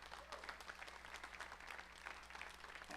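An audience at a civic presentation about University Mall, the UACDC and an opportunity-zone designation applauds with steady, fairly soft clapping. The sound spreads evenly through the room, carries on for several seconds and has no speech over it.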